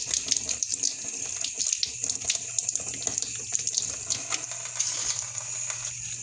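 Freshly picked herb leaves rinsed under a running tap, a continuous close hiss of flowing water with small splashes and rustles throughout, no voices.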